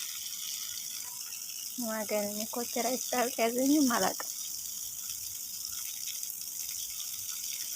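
Steady running water hisses in a village home while a person talks briefly over it.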